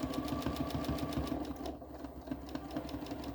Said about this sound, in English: You're guiding the machine, plus you're also creating your own stitch length.